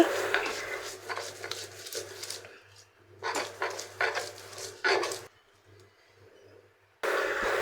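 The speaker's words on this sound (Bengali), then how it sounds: "তারপরে রসুন আর পেঁয়াজ ভাজাটা বেটে নিচ্ছি" Fried garlic and onion are crushed on a flat grinding stone, producing a few bursts of close rasping and rubbing strokes, broken by quiet gaps.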